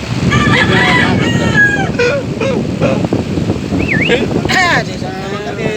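Roosters crowing and clucking at a cockfight in a busy, noisy setting, with several close crows and calls over a loud crowd and people talking throughout.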